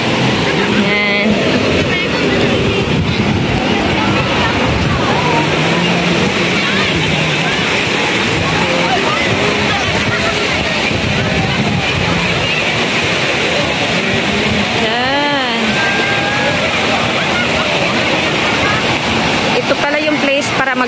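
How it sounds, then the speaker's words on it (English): Big ocean waves at a beach: a loud, continuous roar of surf and crashing water fills the clip, with people talking faintly underneath. "Big wave nga talaga siya."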